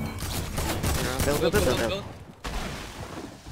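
Shotgun blasts in a fast-paced Fortnite-style trio match, a burst of several reports with gunfire texture during the first half, then fading under a voice speaking briefly.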